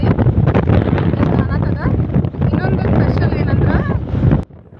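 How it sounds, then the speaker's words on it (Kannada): Strong wind buffets the microphone with a heavy, continuous roar while voices talk underneath, cutting off abruptly near the end. "ಸಿಕ್ಕಾಪಟ್ಟೆ ಗಾಳಿ ನೋಡ್ರಿ ಗಾಳಿ"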